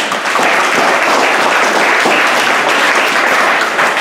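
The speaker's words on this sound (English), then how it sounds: "Round of applause one more time." Party guests applaud together at a holiday party, a steady dense round of clapping lasting the full stretch, loud and close with no talking over it.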